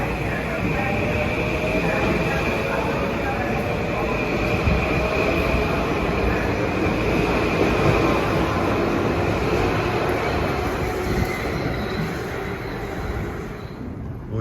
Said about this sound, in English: This is an incredibly busy station, both in the number of trains and passengers that pass through it.